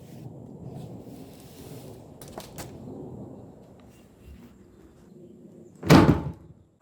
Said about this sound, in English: Then you'll be able to pivot and close the lid.